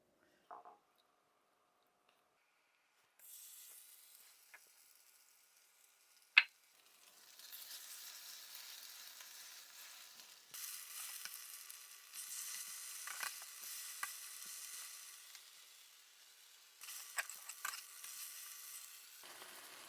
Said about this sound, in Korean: 팬이 어느 정도 달궈졌으니까 한번 붙여보도록 할게요.